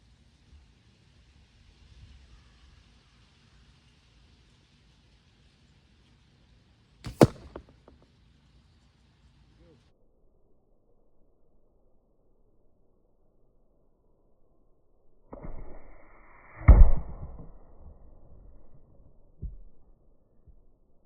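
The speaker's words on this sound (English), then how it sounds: "You can really hear them sizzling on their way there to the target, as well as how hard those arrows hit." Two arrows whoosh through the air and hit a target with sharp, solid thuds, widely spaced amid quiet outdoor stillness.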